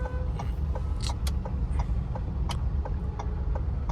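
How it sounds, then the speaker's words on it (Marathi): A jammed road hums with idling and creeping cars, a steady close engine rumble scattered with sharp clicks and knocks, and no talk. "जाम ट्रॅफिक"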